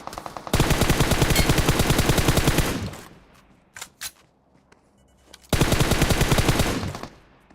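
Video game shooter gunfire rattles in two long automatic bursts of rapid, loud, close shots, separated by a quieter gap with a few scattered single shots, and no talking.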